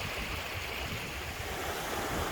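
Clear water from the River Lathkill gushes out of a cave mouth into a limestone dale, a dense, steady rushing roar with no voices over it.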